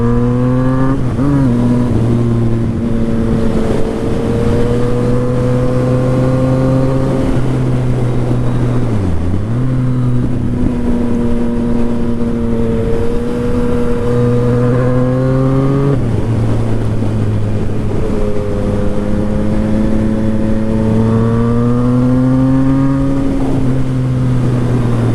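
A Yamaha FZ-09 motorcycle ridden along twisty roads, its loud, close engine drone swelling and dipping with the throttle through bends, with a brief sharp drop in revs midway.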